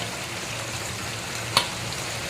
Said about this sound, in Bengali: এবার আমি আলুগুলোকে দিয়ে দেব, দিয়ে এই মাংসের সঙ্গে আরও 2-1 মিনিট একটু কষিয়ে নেব